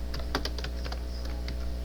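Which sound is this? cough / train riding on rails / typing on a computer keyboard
typing on a computer keyboard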